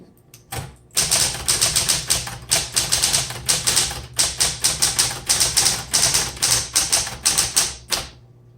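A 1960s Smith Corona Automatic 10 manual typewriter being typed on, a close, steady run of crisp keystrikes with brief pauses between bursts, loud and alone without talk.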